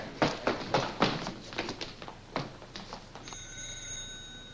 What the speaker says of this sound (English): That phone's been ringing ever since we got here.